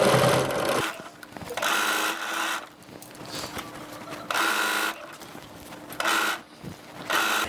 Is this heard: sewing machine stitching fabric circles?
yes